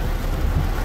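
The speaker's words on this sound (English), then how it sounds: "This is how it is when it is raining in America." Steady, dense rain noise fills the clip, a continuous low rumbling wash with no voices, on a farm in America.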